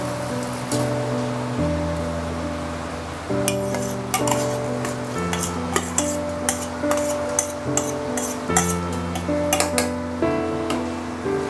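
Soaked raw rice tipped into a pan for vegetable pulao and stirred, grains pattering and clinking against the metal in quick bursts over steady background music.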